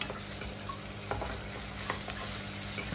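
Ginger garlic paste frying with onions in a pan for dahi bhindi, a continuous close sizzle with light scraping strokes from stirring at a steady pace; no talking.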